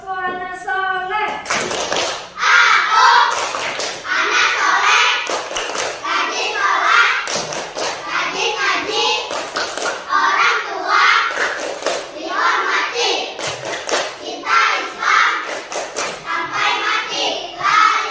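Schoolchildren clap the 'tepuk anak soleh' rhythm in a classroom, steady patterns of sharp hand claps repeated over many seconds, interwoven with the children's chanting voices.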